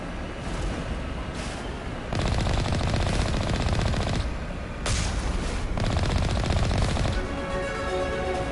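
Sustained automatic gunfire from the sci-fi game Mass Effect Legendary Edition rattles in long dense bursts, loud and close, broken by brief pauses and a sharp blast, with no talking.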